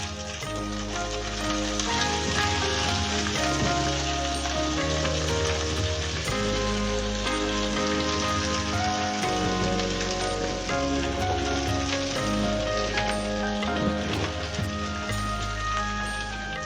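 Leafy amaranth greens frying in a pan, a continuous sizzle sitting under steady background music.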